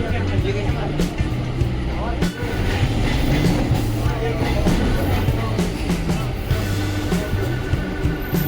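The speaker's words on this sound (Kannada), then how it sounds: "ಸೊ ಮೆಟ್ರೋ ಟ್ರೈನ್ ನೋಡಿ ಫ್ರೆಂಡ್ಸ್." A metro train runs at Mumbai Central, a continuous close rumble with rolling wheel noise and periodic tonal hums, blended with busy surrounding crowd chatter.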